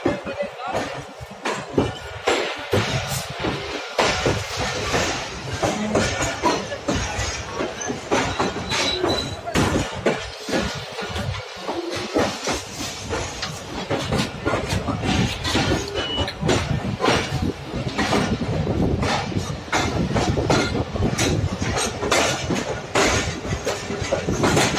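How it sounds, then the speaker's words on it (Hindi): Fareed Express departing Hyderabad railway station behind HEMU 38229 locomotive: loud rolling wheels, repeated clickety-clack and rattling carriages build steadily, with occasional hiss and squeal, close by for the full length. "फ्री एक्सप्रेस डिपार्ट कर रही है हैदराबाद रेलवे स्टेशन।"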